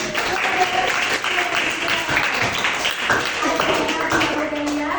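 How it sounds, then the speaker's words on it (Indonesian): A class applauds a first-place quiz winner, a busy burst of many hands clapping close by while voices talk over it. "tepuk tangan"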